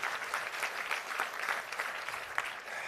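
Audience applause following a public policy speech at an institute event, a steady sustained clapping from a large room that holds evenly throughout with no other sounds on top.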